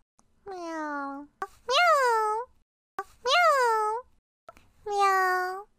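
Four drawn-out, cat-like meows serve as a frog plant's attack sound in the Plants vs. Zombies video game, each call loud and rising then falling, spaced by short gaps with small clicks between.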